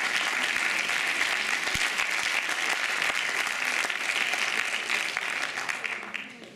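An audience at a business-school eloquence contest final in Reims applauds a lawyer, dense sustained clapping filling the room for several seconds before tapering at the end.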